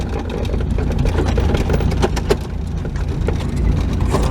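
A Datsun 210 driving along, its engine giving a low, steady rumble with road noise and occasional bumps and knocks, close and continuous throughout.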